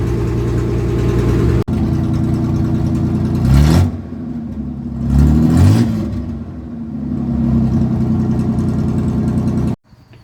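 A Chevrolet S-10 pickup truck engine idles roughly, then revs up hard twice in quick succession before settling back to a loud, uneven idle.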